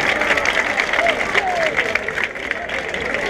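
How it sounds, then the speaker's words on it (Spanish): Audience clapping at a Spanish-language freestyle rap battle, a dense continuous patter of applause from a crowd, with a voice speaking loudly over it. "¡Tiempo! ¡Fuerte las palmas!"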